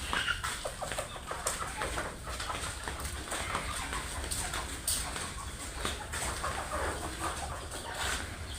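A flock of pullet chickens on a poultry farm clucking and chattering continuously at a moderate level, with scattered individual calls over a steady background din.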